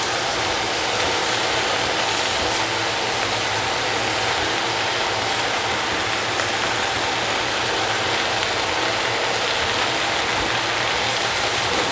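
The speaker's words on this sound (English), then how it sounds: "I'm going to put some water in it now." Water pours steadily into a cooking pot holding corned beef, cabbage, lettuce and chicken base, a continuous broadband rushing splash that stays even and close for the whole stretch with no voices.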